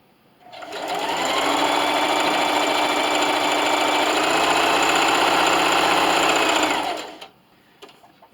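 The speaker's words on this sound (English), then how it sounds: "And just keep sewing." A sewing machine runs a steady straight stitch at 2.5 length through a plastic bag dispenser, a continuous close, loud mechanical whir lasting several seconds before stopping abruptly, with no talking.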